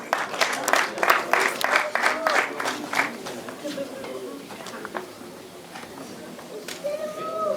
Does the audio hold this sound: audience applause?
yes